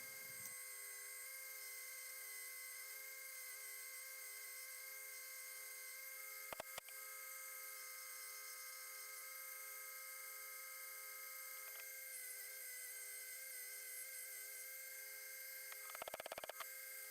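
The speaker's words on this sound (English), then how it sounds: "I will use the sander to try to get that oval shape, sand down the bulk of the wood" Power sander shaping a wooden handle for a restored hammer, a steady high-pitched whine held evenly throughout with a couple of brief scraping bursts where the wood meets the sanding surface.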